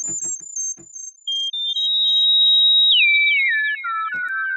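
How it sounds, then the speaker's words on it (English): A self-oscillating synth filter rings out as a pure theremin-like sine tone, sliding between pitches and gliding downward in swoops, preceded by a few soft clicks. "And you do get a sort of a theremin sound out of it."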